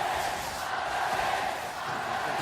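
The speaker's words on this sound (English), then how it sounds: "Feel the crowd only getting louder." A large indoor crowd at the 2017 League of Legends World Championship quarterfinal roars in a continuous, sustained wash of cheering and shouting, loud and steady throughout.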